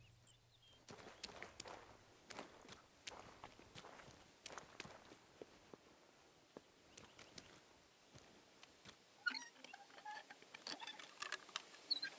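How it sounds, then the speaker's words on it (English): Footsteps in the video game Kingdom Come Deliverance 2, a steady series of soft, quiet steps pattering along over several seconds, alone without talk, with a few brighter clicks and scrapes near the end. "I hear footsteps."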